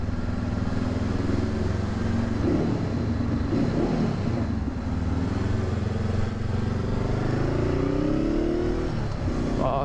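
A Yamaha MT-07 motorcycle engine runs steadily with a low, continuous drone, its pitch slowly shifting as it is ridden, heard through buffeting wind noise.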